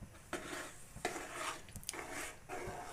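Vermicelli custard stirred in a pot over a low flame, with faint, repeated scraping strokes of a spoon against the pot in soft, uneven bursts.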